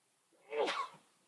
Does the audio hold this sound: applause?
no